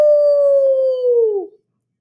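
A human voice imitates a big howl from a sung children's picture book, one long steady tone held for about a second and a half, then sliding down and cutting off into silence.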